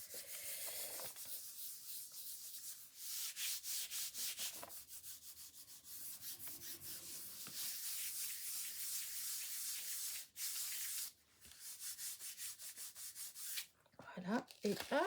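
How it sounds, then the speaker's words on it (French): A gel press roller being rubbed clean, giving a close, continuous scrubbing and rasping friction with brief pauses and a few sharper handling knocks near the end. "Là, je vais nettoyer mon rouleau"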